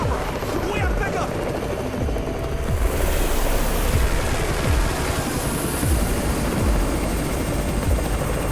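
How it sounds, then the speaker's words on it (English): A helicopter's rotor thumps in a steady, rapid chop, loud and close, over a dense rushing roar of engine and background noise, in the video game Undawn. "It's the Raven's chopper!"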